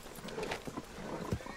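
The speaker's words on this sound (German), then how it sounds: "Das Pferd flippt total aus da hinten." A horse in the video game Red Dead Redemption 2 panics, giving short snorting whinnies and scuffling hoof sounds in a quiet, brief burst.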